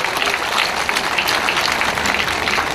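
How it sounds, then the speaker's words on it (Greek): An audience claps steadily at a summer show by elderly community-centre members, dense sustained applause filling the room from start to finish. "ένα μεγάλο χειροκρότημα"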